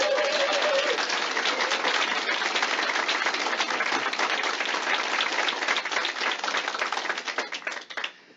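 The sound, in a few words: audience applause at a convention speech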